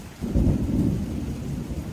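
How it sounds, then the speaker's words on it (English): Low thunder rumbles beneath steady falling rain, a brief muffled roll that stays fairly constant throughout. "that thunder sounds really fucking weird"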